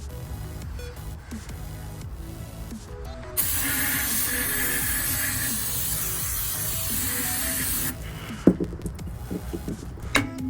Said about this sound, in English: so to keep the dust down, I'm going to use this brake cleaner